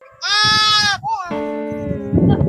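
A goat bleats loudly and close, one long wavering cry followed by a second, lower drawn-out bleat, with shuffling and handling noise underneath.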